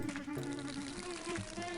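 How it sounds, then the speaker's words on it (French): A bee buzzes in the video game Nox, a close, continuous droning hum with a wavering pitch that holds steady for a brief moment. "Et j'entends une abeille là qui vole."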